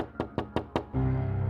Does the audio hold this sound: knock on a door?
yes